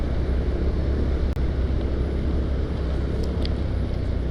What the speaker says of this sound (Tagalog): Maingay yung tunog ng sakyan sa NLEX.